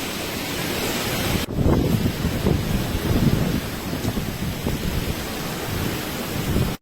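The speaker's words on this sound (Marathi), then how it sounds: "थोडं भयानक वातावरण बिघडले बघा पावसा ते वारं वगैरे सगळं सगळं चालू आहे" Heavy rain and gusting wind in a village storm during a power cut, a loud, steady broadband roar with rumbling low buffeting that continues throughout without voices.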